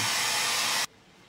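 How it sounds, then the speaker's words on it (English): A hairdryer drying ski gloves runs loud and close as a steady broadband whoosh, then cuts off abruptly, leaving quiet room sound. "all of a sudden I've heard a hairdryer going."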